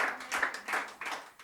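A church congregation claps in quick rhythmic bursts during a service. The clapping is moderately faint and comes in repeating waves.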